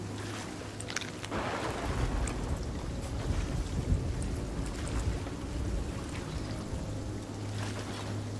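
A video game storm at sea, with steady rain and a rumbling wash of wind and thunder running loud and continuous throughout. There are scattered sharper crackles within the roar.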